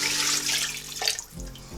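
Water pouring into a cooking pot to cover a rabbit, a brief close splashing rush that eases off near the end.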